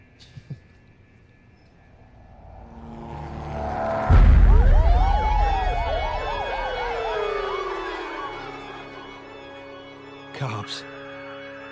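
A police siren wails up from a distance in a crime movie scene, its rising and falling tone swelling loud as it draws near over a rumbling engine before fading, with a sharp bang near the end.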